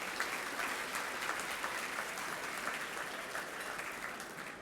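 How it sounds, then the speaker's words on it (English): Sustained audience applause fills a room at the 2019 Silver Stars Awards celebration in North Florida, a steady dense patter of many hands clapping at moderate volume throughout, with no speech over it. "Please give yourselves a huge round of applause,"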